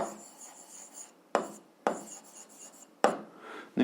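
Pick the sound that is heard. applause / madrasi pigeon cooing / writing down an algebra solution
writing down an algebra solution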